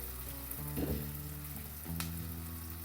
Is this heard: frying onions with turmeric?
yes